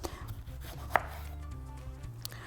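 Tomatoes chopped with a knife on a cutting board for a chickpea salad, with one sharp, distinct blade strike and quieter board taps around it.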